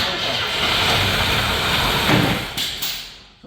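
A car engine cranks steadily after its distributor parts are replaced, a loud continuous churning that rises and briefly catches before cutting out near the end.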